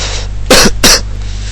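Two quick, forceful throat-clearing coughs, close and loud, over a steady low hum.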